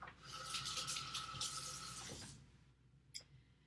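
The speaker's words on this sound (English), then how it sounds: "Again, I'm gonna rinse off my hands." Tap water runs steadily into a sink as hands are rinsed during apple pie making, a broad rushing stream for about two seconds that then cuts off, followed by a faint drip or splash.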